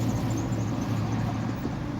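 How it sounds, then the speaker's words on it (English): A rough-sounding car driving by on I-94 in Detroit, a steady close engine drone over road noise, fairly loud throughout with no talking. "That car sound like junk, bro."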